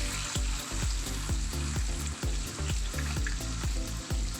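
Chopped capsicum and onion frying in oil for a chicken kathi roll, a dense continuous sizzle pulsing with regular stirring strokes, close and loud, without speech.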